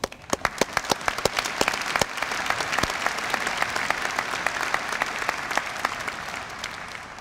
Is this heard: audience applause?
yes